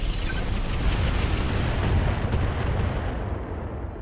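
Mech weapons fire in the BattleTech game RogueTech as a dense, continuous barrage of booming shots and rumbling impacts, loud and sustained, fading slightly toward the end, with no talking.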